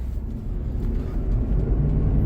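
Dodge Durango V8 pulling away, a deep, steady engine rumble building slightly in loudness, heard from inside the vehicle.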